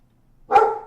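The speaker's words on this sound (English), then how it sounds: "Now the dogs start barking." A single sharp dog bark rings out after a short silence, fairly close and loud.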